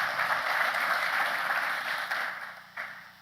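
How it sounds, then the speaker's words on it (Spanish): A seated audience at a security and peace panel applauds steadily for about three seconds, the clapping thinning toward the end. "Un fuerte aplauso"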